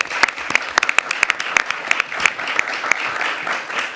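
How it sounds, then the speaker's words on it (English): An audience at a New York City mayoral public hearing applauds, with distinct sharp hand claps in a loose, uneven rhythm from a modest crowd, moderately loud and close. "we should give him a big round of applause for his leadership"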